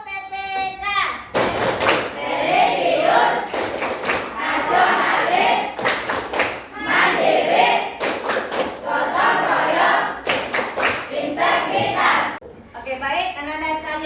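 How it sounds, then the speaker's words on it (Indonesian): Schoolchildren in a classroom chant and clap together in a rhythmic patterned routine, loud bursts of claps and voices in repeated phrases with brief pauses between sections. "Tepuk PPK."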